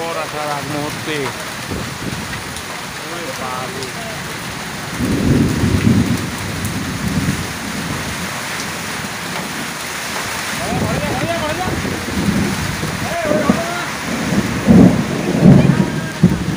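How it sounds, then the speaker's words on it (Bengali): Heavy thunderstorm in Jalpaiguri district, with steady loud rain and rolling thunder booming in bursts near the middle and end, and a voice talking faintly at the start. "দেখুন আপনারা দেখুন, ঝড় বৃষ্টি শুরু হয়ে গেছে।"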